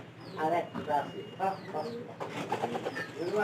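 Pigeons in a tin-roofed loft give repeated soft, throaty coos in quick overlapping bursts, close by and steady throughout.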